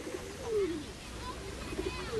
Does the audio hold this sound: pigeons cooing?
yes